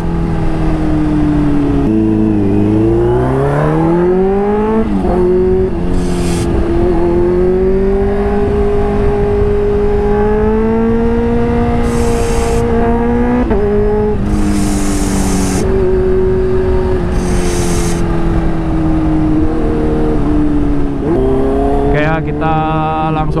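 A Kawasaki H2 motorcycle fitted with a smart boost runs loud and close, its engine revving up and down in repeated swells with sharp throttle blips and rising, falling pitch, heard alone without talk.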